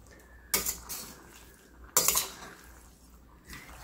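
A spoon stirring moringa drumstick fry, a South Indian dish, in a pan: two sharp metallic scrapes and clanks about a second and a half apart, with quiet gaps between.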